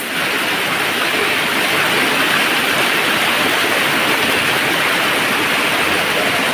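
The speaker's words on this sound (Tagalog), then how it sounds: "Yung ragasa ng tubig oh." Rushing water of a river at Canding Falls, a loud, dense and constant roar of flowing water close by with no pauses.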